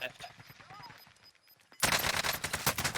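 Automatic gunfire in the video game Warzone, a sudden loud burst of rapid shots after a quieter stretch with faint game sounds and a voice.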